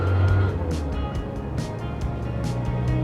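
A 1970 MG Midget drives along with a steady, moderately loud engine drone and road noise, with faint rhythmic ticks above it.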